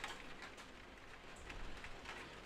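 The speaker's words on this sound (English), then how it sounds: "And it just started raining. You can probably hear it, since my mic is quite sensitive." Light rain that has just started falling outside patters softly and evenly as a faint, steady hiss with scattered drops.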